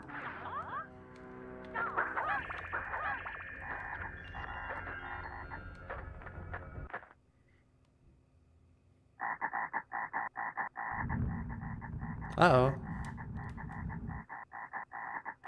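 Frogs croaking in rapid pulsing trains, first a dense rattling chorus, then a pause of near silence before a second burst of buzzy croaks; a brief spoken exclamation cuts in near the end.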